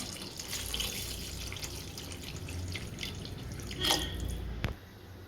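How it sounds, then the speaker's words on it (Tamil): Water runs steadily into a pan of beef curry for Nagpur-style shahi beef tawla, a soft continuous pour with a brief louder splash near the end before it stops. "கறி வேகிறதுக்கு தேவையான அளவு தண்ணி சேர்த்துக்கலாம்"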